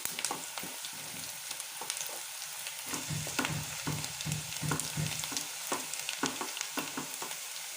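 Chopped onions sautéing in a pan for potato capsicum rice, a soft continuous sizzle punctuated by repeated scraping and stirring clicks of a spatula, with no talk.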